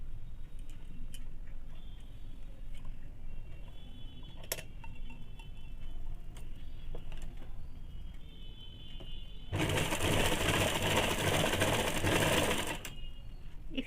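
A sewing machine stitches a ladies' scarf, a soft steady whir with light ticks for most of the time, then a louder fast-running stretch near the end.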